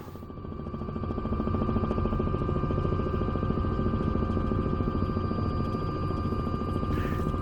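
A helicopter lands in Microsoft Flight Simulator, flown in VR: a steady, loud rotor buzz with an even chop and engine whine that holds through the whole stretch, no voices over it.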